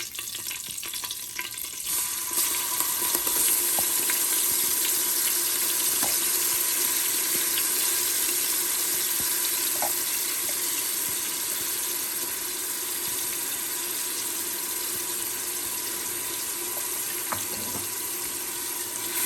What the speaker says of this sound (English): I will saute the ginger garlic paste in the ghee for at least a minute or 2